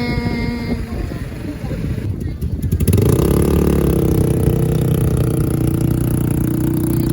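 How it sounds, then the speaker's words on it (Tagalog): An ATV engine runs on a beach at Estanza, Pangasinan, a loud steady motor drone that swells and grows louder partway through, with faint voices around it. "Parang motor din. Motor din."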